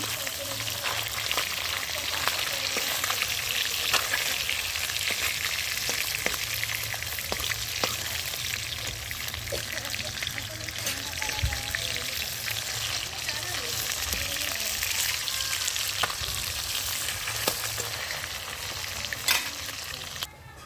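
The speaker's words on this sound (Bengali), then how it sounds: "এদিকে মাছ ভাজাগুলো করে নিচ্ছি" Small fish fry in oil over a wood-fired earthen stove, giving a steady, dense sizzle and crackle that runs unbroken and close throughout, with occasional sharper pops and no talking.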